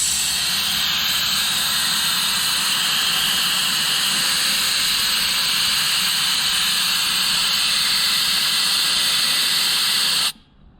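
Air hissing steadily and loudly out of a Polaris RZR Turbo R4 tire, a Journey Rock Poison 35, while it is deflated to 14 psi, a continuous close rush of air that cuts off abruptly near the end.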